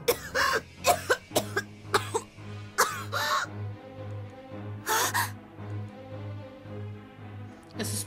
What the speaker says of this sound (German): Sie hustet viel Blut.